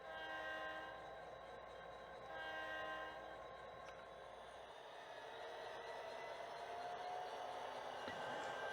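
An HO scale model train runs on a switching layout, making a faint steady hum and whirr with some tonal, horn-like layers, fairly quiet and with no talking.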